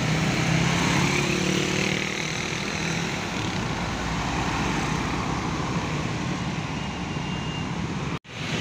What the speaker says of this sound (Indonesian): Dan ada bus Damri tujuan Bandara Juanda.